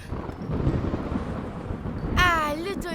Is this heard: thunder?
yes